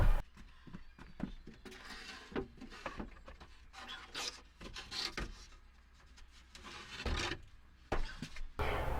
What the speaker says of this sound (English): this 1-inch flexible putty knife has been invaluable in removing these pieces without causing any more damage than you're gonna